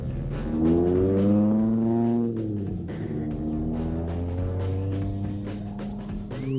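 A street-legal car built for racing squeals its tires hard through a turn, a sustained tonal screech whose pitch bends up and down over loud, steady engine drone.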